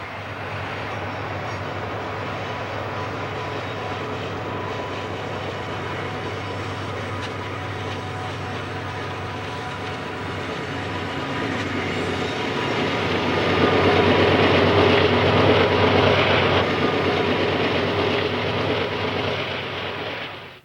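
General Electric four-cycle diesel locomotives roll along the Tennessee Pass railroad, a steady engine drone with rail clatter that swells louder as the train draws nearer, no voices present.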